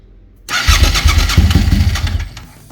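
A 2002 Suzuki TL1000R cold-starts with a brief cranking whir, then catches into a loud, close, throbbing idle with a low, lumpy rhythm.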